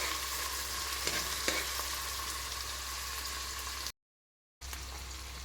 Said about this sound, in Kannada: ಈಗ ಈರುಳ್ಳಿ ಚೆನ್ನಾಗಿ ಫ್ರೈ ಮಾಡ್ಕೋಬೇಕು ನಾವು.